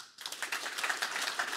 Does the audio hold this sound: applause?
yes